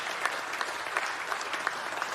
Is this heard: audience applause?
yes